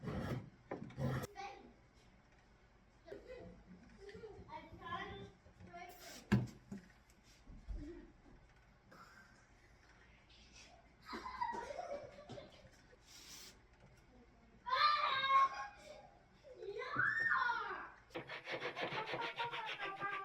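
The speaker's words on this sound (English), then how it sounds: "I may just have to cut a piece of wood and shape it and then just chisel out the groove" A chisel cuts a groove into an oak workpiece for a side table makeover: sporadic scraping and rasping strokes with short pauses, close and fairly quiet, a few louder bursts near the end.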